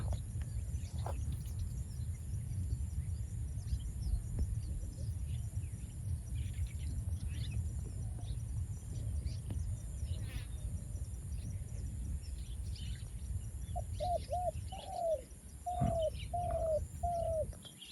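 A bird calls several times in short, repeated notes near the end, over a steady outdoor hum of insects and low ambient noise.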